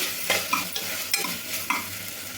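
Onion, ginger and garlic fry in a pan for a butter beans masala curry, a continuous sizzle broken by several scraping stirs of a spoon at irregular intervals.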